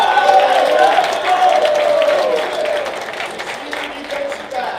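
Applause at a high school football booster banquet, a room of people clapping steadily that gradually fades, with some voices mixed in.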